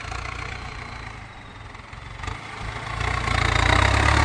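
Massey Ferguson tractor ploughing a field before sugarcane planting, its diesel engine a steady low rumble that swells louder toward the end, with no voices.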